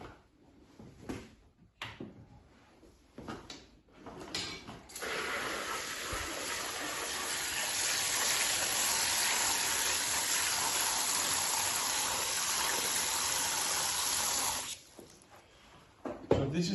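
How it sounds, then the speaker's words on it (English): Water pours into beaten fiber for handmade Japanese paper, a steady gushing rush lasting about ten seconds, framed by a few short knocks and handling sounds before and after. "Take some water."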